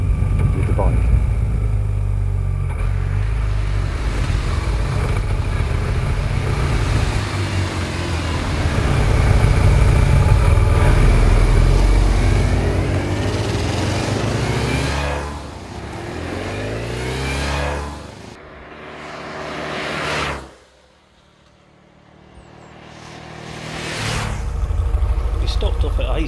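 Motorcycles ride along a road with a loud, close, rumbling engine drone that rises and falls, briefly dropping away before returning, with a voice talking over part of it.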